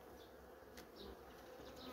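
Honeybees hum inside a hive in a cool clustered state, a faint, steady close-up buzz with occasional louder passes from individual bees.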